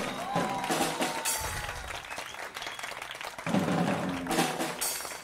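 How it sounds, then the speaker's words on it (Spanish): An outdoor theater audience at a student drama festival applauds Juan Cova, giving sustained clapping that stays steady for several seconds and swells again near the end. "un fuerte aplauso nuevamente para Juan Cova"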